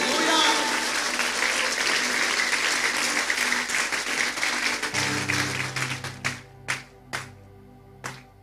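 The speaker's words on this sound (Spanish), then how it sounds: "Denle un fuerte aplauso a Jesús." Dense applause from a church congregation during a Sunday service carries on steadily, then thins into a handful of separate claps near the end, with a low sustained tone entering midway.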